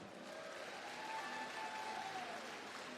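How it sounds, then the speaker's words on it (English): Faint, distant applause from an audience at an outdoor festival entertainment stage, a soft, even wash of clapping with a faint tone threading through it. "Give them a round of applause."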